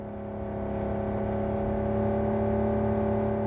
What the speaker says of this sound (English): Drive, Jackie, just drive.